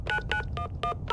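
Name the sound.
cellular phone dialing in Ace Ventura video game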